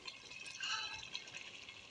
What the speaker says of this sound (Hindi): ये मेरे मूलियों को बॉयल आ चुका है अच्छी तरह से, और इसको अब मैं पानी निकाल लूंगी।